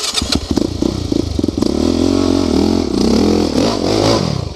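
ATV engine at an enduro race revs hard up close, starting with choppy clattering bursts and then holding a loud, sustained rising growl as the rider accelerates.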